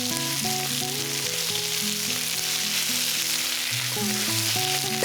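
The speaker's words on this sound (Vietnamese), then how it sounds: "Tiếp tục mình cho ớt chuông vào nè." Beef, onion and bell pepper stir-fry over high heat in a pan, giving a loud, unbroken sizzle close up that stays steady from start to finish, with gentle background music underneath.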